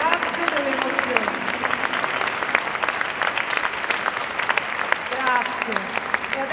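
Audience applauding young performers at a Christmas concert, a full, sustained round of clapping with some voices underneath.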